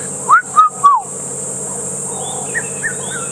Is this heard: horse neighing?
no